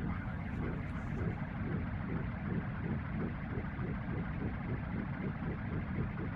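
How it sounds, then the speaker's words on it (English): Hammond organ voice with all drawbars pulled out and the Leslie rotary speaker sped up, producing a dense, full chord with a fast, even warbling tremolo pulsing throughout, steady and moderately quiet. "Let's put all our drawbars up and just speed the Leslie up."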